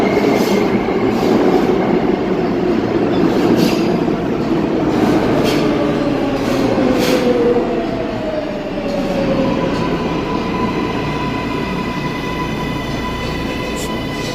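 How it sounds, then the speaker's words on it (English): A subway train rumbles past loudly with a steady roar of rail noise, rising wheel squeals and clattering track sounds that gradually ease off over the span. "So I'm just gonna wait till the train like dies down on the noise."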